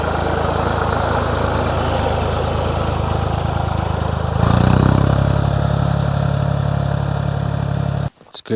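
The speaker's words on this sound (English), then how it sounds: "I love how strong these tractors are." A farm tractor engine runs steadily nearby during harvest, growing louder and rougher midway, then cuts off abruptly at the end.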